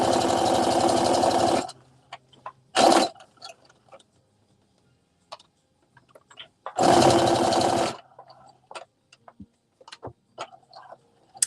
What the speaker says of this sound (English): Let me back stitch this.